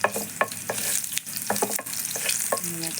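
Garlic frying in hot oil, a loud close steady sizzle broken by repeated sharp scrapes and taps of a spoon stirring the pan, with no talk.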